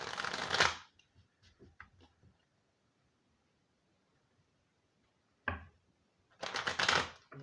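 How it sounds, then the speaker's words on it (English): Tarot cards shuffled by hand in two close bursts of dense papery riffling, near and fairly loud, separated by a long quiet stretch with only faint scattered taps. "One more good shuffle."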